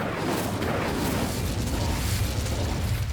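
A fire spell cast in the Hogwarts Legacy game lets loose a loud, sustained roaring burst of flame, a dense rumbling whoosh that holds steady for about three seconds with no talking over it.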